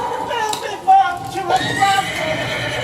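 In a dramatic fantasy scene, a horse neighs and whinnies under loud, urgent voices and a noisy, chaotic background.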